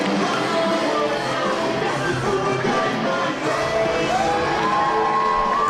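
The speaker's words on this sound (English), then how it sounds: "The crowd firmly behind Jordan Falco here." A wrestling crowd cheers for Jordan Falco at an NYCW event, a steady dense roar of shouts and whoops filling the arena with a few higher calls rising near the end.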